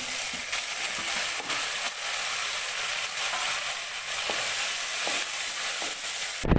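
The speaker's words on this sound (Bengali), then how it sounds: "এবার আমার পেঁয়াজটা ফ্রাই হয়ে গেছে, এবার আলু ফ্রাই হবে" Onions and potatoes fry in a pan with a steady, fairly loud sizzle and periodic stirring clicks, close up and with no talking.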